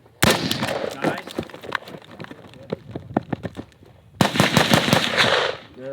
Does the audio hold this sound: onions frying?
no